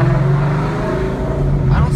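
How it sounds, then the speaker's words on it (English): A Mustang fitted with a loud Corsa exhaust rumbles nearby, a deep, steady engine drone holding evenly for a couple of seconds. "this has got a Corsa exhaust. It's super loud."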